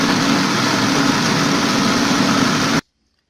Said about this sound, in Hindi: अब मैं इसको ग्राइंड करने लगी हूँ।